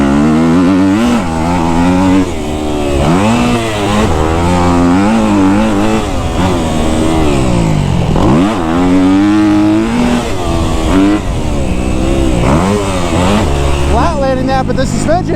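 A Kawasaki KX250F dirt bike engine revs up and down while riding, the loud near pitch rising and falling through gear changes, with a rider's voice talking over it.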